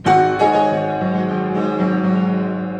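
A piano chord rings out with the sustain pedal held, new notes piling onto the lingering ones so the harmony smears into a blurry wash.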